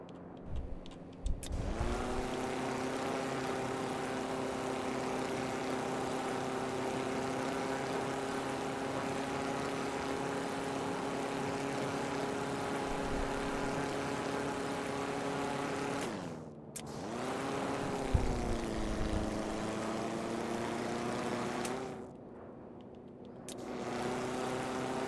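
An aircraft built in the TrailMakers game takes off and flies, its steady droning engine whine holding a constant pitch with brief dips and pitch swoops as it climbs, loud and continuous with no talk.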